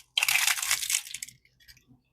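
A single loud, close crunch of biting into a crisp homemade shrimp roll dipped in sauce, one burst of crackling that fades after about a second into quiet.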